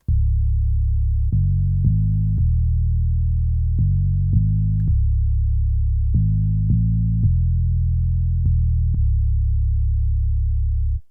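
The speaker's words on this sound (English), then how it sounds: "how to make a very easy sub bass in Sytrus, and it sounds like this." A deep FM-synthesized sub bass made in FL Studio's Sytrus plays a sequence of sustained notes, each starting with a small click, loud and steady with no voices.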